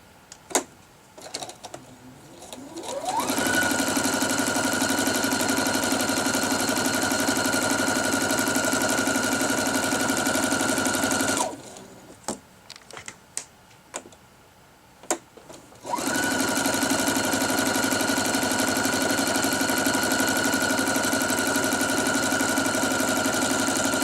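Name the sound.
sewing machine stitching a quarter-inch seam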